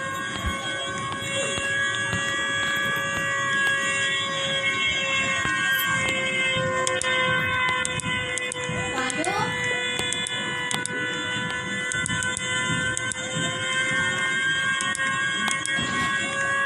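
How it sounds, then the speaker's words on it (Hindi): A loud, sustained siren holds steady, layered tones close by for the whole stretch, with no voices over it. "अभी ये बहुत तेज आवाज निकाल रहा है हेलो साइरन आप कैसे हो"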